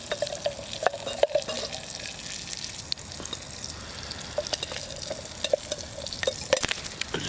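Food sizzles steadily in a pan on a Trangia camping stove at a wild camp, with occasional scrapes and clinks of stirring on top. No one speaks.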